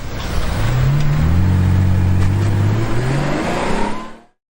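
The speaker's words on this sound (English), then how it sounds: "sports car," A sports car engine revs hard, its pitch sweeping upward through gear changes in a loud, sustained roar that cuts off abruptly at the end.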